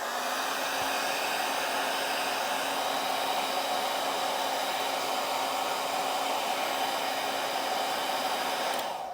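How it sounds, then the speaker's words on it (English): A hair dryer blows a steady, loud, unbroken whoosh with a faint motor whine as it heats torn vinyl during a repair, running alone without talk. "So we're going to use the hairdryer now, so just excuse the noise."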